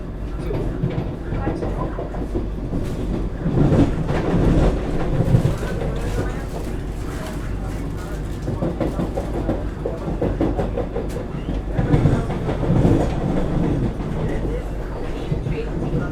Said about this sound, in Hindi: एक बार फिर से हमारी वंदे भारत एक्सप्रेस ने रफ्तार पकड़ी